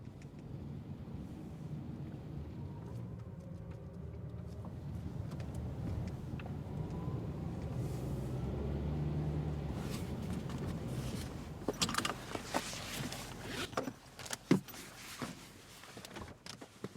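Heard from inside a moving car, a low, steady engine and road rumble runs throughout, with sharper clicks and knocks from the cabin toward the end.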